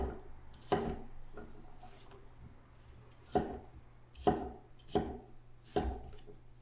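A large Japanese knife chops through a squash on a cutting board, with about five sharp, close thuds spaced irregularly and quiet handling noise between them.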